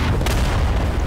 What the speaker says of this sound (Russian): Ого, здесь мега взрыв был.